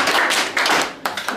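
Classroom clapping for a student at a school chemistry practical, a dense burst of hand claps fading briefly near the middle before a second sharp round starts up, close and fairly loud with no talk over it.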